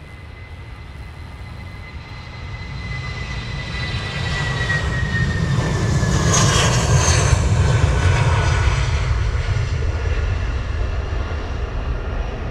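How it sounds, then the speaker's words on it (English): An aircraft on its takeoff roll at Luton Airport, a steady building jet roar with rising whine that swells to a loud peak midway and stays strong, heard at a distance without voices. "Aircraft on the roll."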